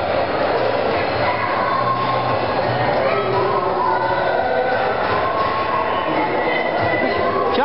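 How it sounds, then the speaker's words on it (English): A train passing, heard as a loud, continuous rumbling roar with broadband clatter that holds steady throughout, close by. "Where's that train going?"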